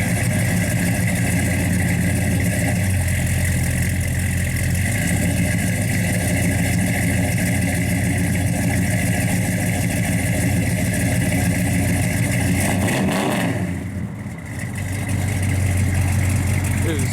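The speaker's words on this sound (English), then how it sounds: "Good sounding car. Nice cam" A 1967 Plymouth Belvedere GTX with an aggressive cam and 727 automatic idles nearby, a loud, steady, lopey rumble that dips briefly before settling back into its choppy idle.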